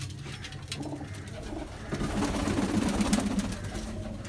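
Bazi pigeons coo in a loft, soft repeated throaty burbles that swell in the second half, close and fairly faint, with a low background murmur.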